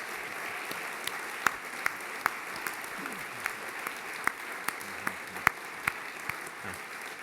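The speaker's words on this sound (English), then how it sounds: "let's offer a final round of applause to our moderator, Dean Dennis Irwin, and our panelists." Soft, distant applause from an audience at an astronaut panel, a steady wash of clapping with a few sharper individual claps standing out above it.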